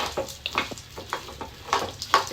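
About a quarter cup of chana dal is stirred in a pan, giving close, repeated scraping strokes with a light sizzle in an irregular rhythm, no talk.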